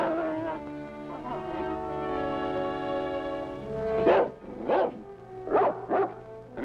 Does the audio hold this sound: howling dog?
yes